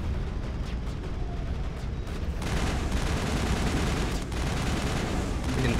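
A turret in the video game Mass Effect fires at the player, making a dense, continuous, rumbling barrage that grows heavier partway through and stays loud and close throughout.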